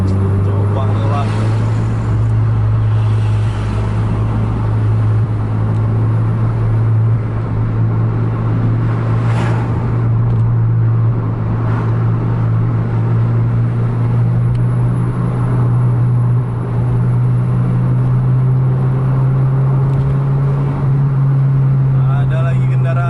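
A Scania truck races at high RPM while trying to overtake, its engine a loud, steady droning rumble that climbs slightly in pitch, with someone talking over it throughout.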